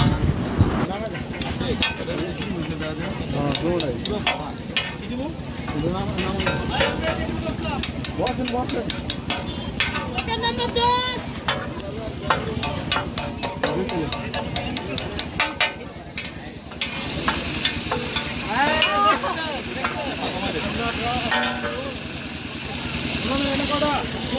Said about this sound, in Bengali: দেখুন কিভাবে কাঁকড়াগুলা ফ্রাই করতেছে